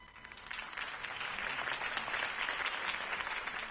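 A crowd claps steadily after a campaign speech, dense applause that swells slightly and holds at a moderate distance with no voices over it.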